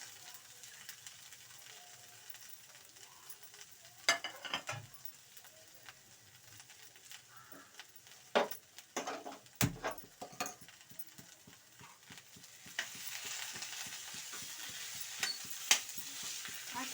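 Mashed potato with chopped coriander being stirred in a frying pan, with soft scraping and light sizzling and a few sharper clinks of the spoon against the pan, close and fairly quiet throughout.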